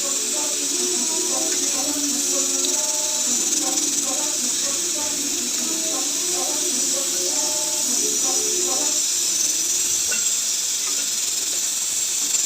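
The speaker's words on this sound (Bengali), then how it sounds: "এই যে সব লুচিগুলো এক এক করে ভেজে নিই" Luchi puffs in hot oil, a loud, continuous sizzling hiss that runs throughout beneath a faint melodic background tune.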